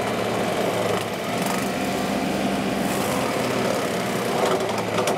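A tractor's loader-mounted rotary cutter chews through tree limbs with a loud, steady engine drone and rough shredding noise, continuous and close throughout.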